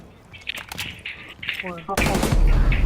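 Gunfire in a multiplayer shooter video game: a few scattered shots give way to a sudden loud burst of rapid automatic fire, while players talk excitedly over it.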